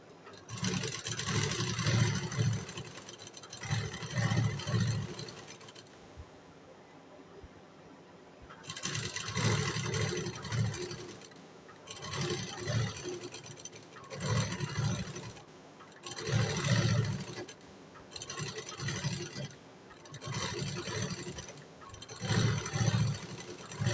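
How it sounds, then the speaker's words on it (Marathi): A sewing machine stitches along the pinned neckline of a blouse in bursts of steady mechanical whirring and clatter, each run lasting a few seconds and separated by brief pauses, close and fairly loud with no talk. "आता ह्याच्यावरती आपल्याला शिलाई मारून घ्यायची आहे."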